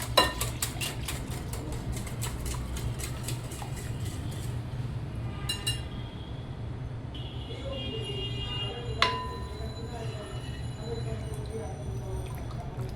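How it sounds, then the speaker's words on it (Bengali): Egg being mixed into a thin batter for chita roti, with a utensil clinking and scraping in a bowl, rapid at first and then more scattered, against a steady low hum. "একটু মিশিয়ে নিব ভালো করে, যেন কোনো লাম্পস না থাকে। ডিমটা যেন ভালো করে মিশে যায়।"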